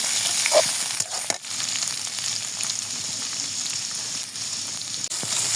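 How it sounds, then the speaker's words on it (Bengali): Chopped onions and green chilies fry in a pan with oil, giving a steady bright sizzle that holds close and continuous throughout with a few faint scrapes. "পেঁয়াজ মরিচ দিয়ে একটু ভালো মতো ভেজে নিতে হবে"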